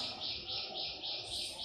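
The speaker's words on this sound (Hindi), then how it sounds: "चिड़ियों की आवाज।" Birds chirp softly in a steady, repeating pattern, faint and somewhat distant in a quiet space.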